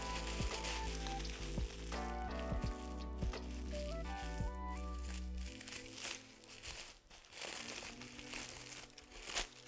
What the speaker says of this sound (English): You're gonna take your parchment paper and crumple it up.